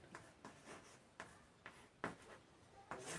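Writing on a board comes through as a quiet run of short, separate strokes, about seven of them at an uneven rhythm, close by in an otherwise still room.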